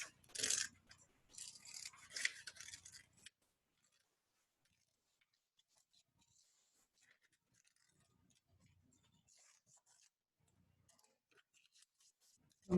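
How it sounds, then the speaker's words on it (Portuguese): Scissors cutting paper for a craft project, a few crisp snips and rustles up close at the start, then mostly quiet with faint handling noises and a sharp bump at the end. "Cuidado para não se cortar com a tesoura."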